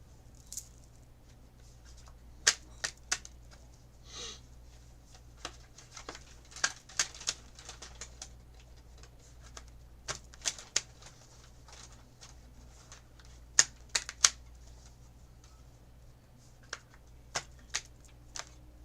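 A tarot deck being shuffled by hand at a live tarot reading, with soft crisp riffles and taps scattered irregularly over a quiet background, close and fairly faint.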